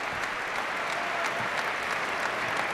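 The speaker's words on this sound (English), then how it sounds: "Crowd showing their appreciation." A Toronto crowd at a professional squash match applauds steadily and loudly for the length of the clip, a dense patter of clapping with no voices over it.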